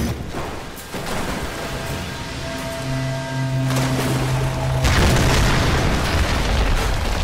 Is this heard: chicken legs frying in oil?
no